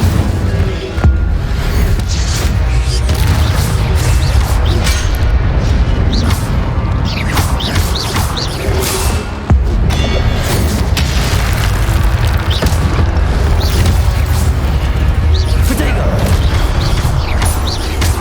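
Fire spell blasts cast in Hogwarts Legacy on PC, heavy booming bursts layered over dense game music and effects, with a voice speaking at points throughout.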